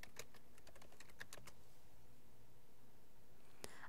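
Username and password being typed on a computer keyboard: a quick run of close, light key clicks that stops partway, then a single sharper click near the end. No one speaks.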